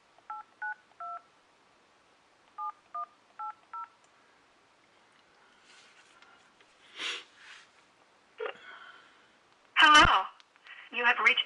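Telephone keypad tones sound as two quick runs of short dialing beeps, clear and close, followed by rustling, breathy handling noises and a few louder bursts.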